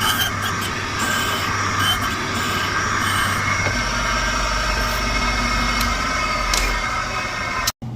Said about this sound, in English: Hear that motorcycle in the background?